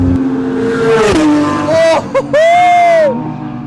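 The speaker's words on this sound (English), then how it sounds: "And then under power, this exhaust system is insane." Supercar exhaust under hard power on a race track, a loud roaring note that rises and falls through several gear shifts and brief lifts, close and dominant, with faint crowd or voice sound in the background.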